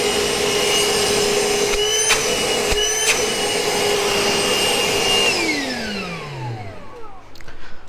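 A Milwaukee M18 cordless vacuum runs with a loud, steady whine and airy rush, then its motor is switched off and the pitch sinks away in a falling spin-down.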